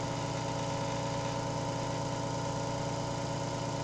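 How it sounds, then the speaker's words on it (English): An outdoor generator powers a motor, a steady low mechanical hum with a constant drone and faint vibration, moderately quiet and unchanging throughout, with no voices. "Now it's running off the generator outside, not the batteries."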